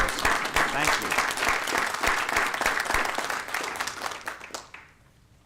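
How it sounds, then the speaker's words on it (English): Hearty audience applause at a formal board meeting, dense and steady clapping filling the room for several seconds before fading out near the end. "please join me and everyone in a hearty round of applause for Ms. Harrison"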